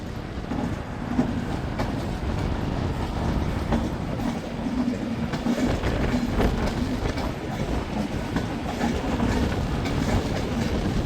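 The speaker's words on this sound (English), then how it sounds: "the other big Avanti West Coast Pendolino is on its way out." An Avanti West Coast Pendolino pulls out of a station at Manchester Piccadilly, a steady rumbling roar with faint clickety-clack from the wheels. The sound holds constant and fairly near throughout, and nobody speaks.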